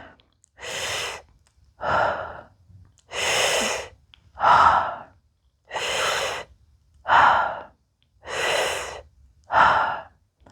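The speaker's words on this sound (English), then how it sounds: "And now breathe." Deep, steady breathing during a rib-cage and side stretch, eight close, even breaths alternating between airy inhales and softer exhales, each separated by a short silent pause.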